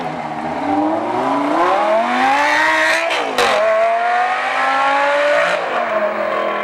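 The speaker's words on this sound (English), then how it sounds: "here's what the Gallardo sounds like." A Lamborghini Gallardo V10 revs hard and close, its pitch climbing through two rising sweeps with a brief dip between them, loud and sustained with no voices.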